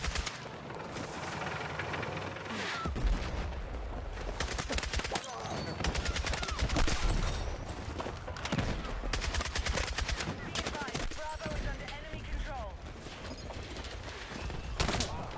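Video game gunfire rattles through a noisy firefight, dense overlapping automatic bursts and single cracks of varying distance, sustained throughout at moderate loudness alongside other battle sounds.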